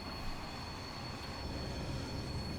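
A long passenger train in Train Sim Classic runs along the Portsmouth Direct line between Waterloo and Portsmouth Harbour, giving a steady, even rumble of wheels on rails with faint high squeal throughout and no voices.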